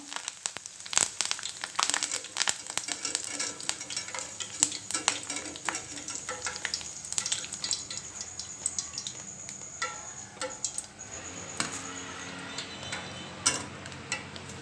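Sliced okra fries with curry leaves in a pan, giving a faint, steady crackle and sizzle broken by frequent scraping stirs and clicks up close, with no talking.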